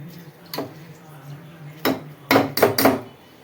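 A spoon clanks against a pot while tempering is mixed into gongura, giving a few sharp metallic knocks, one early, one mid-way and a quick cluster of three near the end, over a low steady hum.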